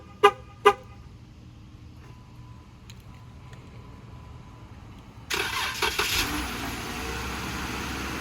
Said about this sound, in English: as you can see, the Jeep started